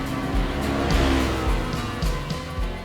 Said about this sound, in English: Driving this Polaris XPEDITION around is really fun.